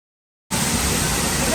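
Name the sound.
waterfall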